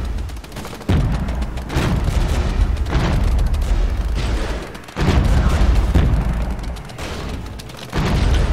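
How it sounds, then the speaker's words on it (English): Battlefield gunfire and heavy explosions in the war game Regiments, loud booming blasts recurring every few seconds over continuous crackling shots. "we're taking fire"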